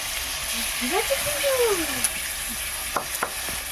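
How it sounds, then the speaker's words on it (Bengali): Chicken pieces frying in a pan for tandoori chicken, a steady broadband sizzle with a few sharp pops and clinks, while a voice murmurs faintly in the background. "চিকেনগুলো দিয়ে ভালোভাবে ভেজে নেব"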